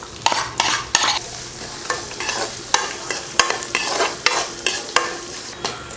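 Fennel seeds, ginger and garlic sauté in hot oil for potato bonda, a spoon scraping the pan in repeated sharp strokes over a steady sizzle, close and fairly loud, with no talking.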